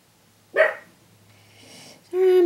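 Dogs bark in a domestic setting, one sharp bark followed by a pause and then a louder, sustained bark near the end, close and clear with no talking.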